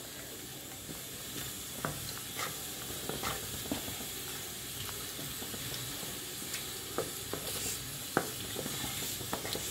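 Spices being lightly sautéed (koshano) in a pan give a steady low sizzle, with scattered scrapes and taps of stirring throughout and no voices.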